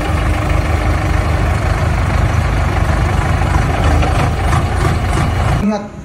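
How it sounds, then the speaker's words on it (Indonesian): Toy bulldozer with a motor, a model earthmover for levelling soil, running with a steady, loud buzzing engine-like drone that holds for over five seconds before cutting off abruptly near the end. "ini motor bulldozer teman-teman"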